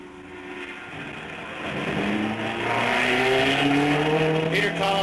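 A red Italian race car, driven by an Englishman, pulls away from the pits at the 1958 Sebring 12-hour race, its engine revving up loudly and climbing in pitch as it accelerates, close by and without voices.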